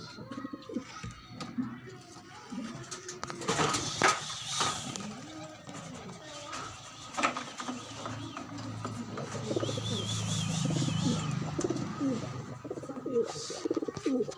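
Pigeons on a roof give repeated soft, low coos in short phrases, fairly close, with some scattered chirps, knocks and a faint low engine hum behind them.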